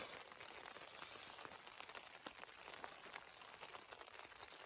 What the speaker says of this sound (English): Rain started to pelt down.